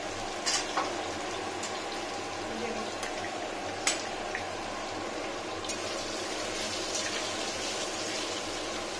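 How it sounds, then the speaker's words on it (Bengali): Potatoes frying in hot oil in a pan for a Bengali-style dish: a steady, close sizzle throughout, with a few brief clinks and stirring scrapes. "আলুটা বেশ ভালো ফ্রাই হয়েছে।"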